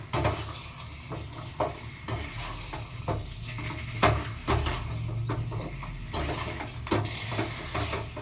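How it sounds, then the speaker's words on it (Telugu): Chicken curry frying in hot oil in a pan, with a steady sizzle broken by repeated sharp clinks and scrapes of a utensil stirring against the pot, close and fairly loud. "మంచి ఆయిల్లో అయితే ఒక 2 minutes దాకా ఫ్రై అయితే కానివ్వండి"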